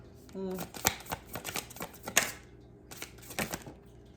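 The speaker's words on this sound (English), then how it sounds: "These cards are not wanting to come out today." Tarot cards being shuffled by hand, with a run of quick papery riffles and sharp card slaps in irregular bursts, close and fairly loud, with a short voice near the start.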